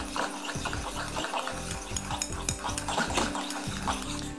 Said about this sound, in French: je mélange vigoureusement pendant 3 minutes. pour réaliser l'émulsion